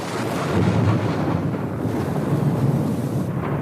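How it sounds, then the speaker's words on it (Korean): A thunder sound effect plays on a Korean radio talk show as a continuous, loud, low rumbling roar. It is steady for several seconds with no voices over it. "천둥소리 음향 효과가 나오고 있습니다"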